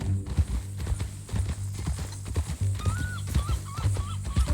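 Horse hooves clip-clop in an uneven walking rhythm in Red Dead Redemption 2, close and distinct, with faint bird chirps and other ambient sounds behind them.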